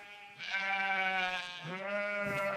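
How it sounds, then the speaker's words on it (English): Sheep in an enclosure bleating, two long wavering bleats in a row, fairly close and clear, with the second slightly lower and trailing off. "The sheep graze peacefully in the enclosure."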